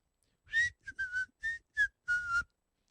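A man whistles a short tune in six separate bursts, the notes clear and close with brief pauses between phrases, walking down a driveway.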